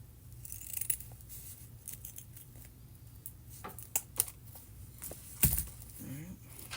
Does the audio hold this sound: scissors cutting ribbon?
yes